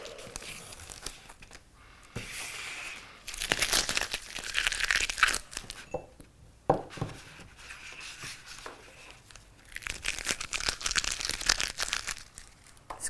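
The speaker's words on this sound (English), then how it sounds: "at this stage, I'm going to take the tape off" Masking tape peels off a painting in several bursts of crisp tearing and crinkling, close and fairly loud, separated by brief pauses.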